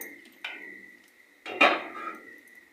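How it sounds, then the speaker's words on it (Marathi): A metal cooking pot is set down on a stove in a home kitchen, giving two clanking knocks about a second apart, the second louder with a short ringing tail, close and without talk. "पातेलं ठेवूया."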